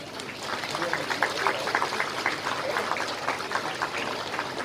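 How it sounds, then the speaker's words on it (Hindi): Loud applause from a crowd at an outdoor public ceremony unveiling a statue of Birsa Munda in Ranchi, a steady dense patter of clapping filling the whole stretch with no voices over it. "जोरदार ताली बजाते हुए"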